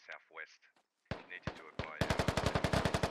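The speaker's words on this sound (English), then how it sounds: "Flicker goes down to some really long range fire here." Gunfire in the tactical shooter game Squad: a few voice fragments and isolated sharp shots, then a steady run of rapid, evenly spaced automatic bursts.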